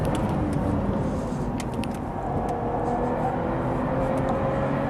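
A Lotus Evora Sport 410 is driven hard on a race track, its engine a steady, moderately loud drone with shifting pitch and wind rush, heard from inside the cabin.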